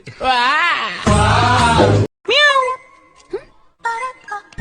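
A person imitates a cat with several drawn-out, wavering meow cries, loud and close, with brief pauses between them and speech mixed in.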